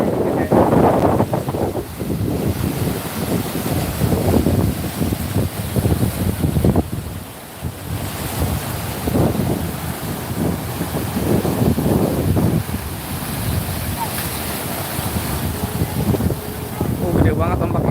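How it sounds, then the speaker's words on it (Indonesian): Strong wind buffets the microphone on a boat at sea among big waves, a continuous loud roar with surging wash, and voices talk faintly underneath. "Gede banget ombaknya."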